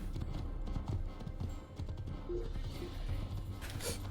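Horse hooves clip-clopping at a steady trot in Assassin's Creed, moderately loud and continuous, with faint game ambience and no clear talk over it.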